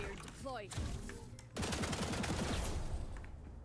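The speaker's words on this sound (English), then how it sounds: "we're just gonna shoot 15 bullets into the edge" A volley of around fifteen rapid gunshots fired at a wall edge in the video game Valorant, a dense burst of sharp cracks following a brief voice, loud and close.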